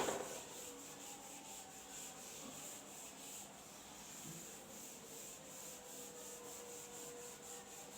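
Steady, soft rubbing of a duster wiping writing off a board after a geometry lesson, a continuous faint scrubbing with no talk over it.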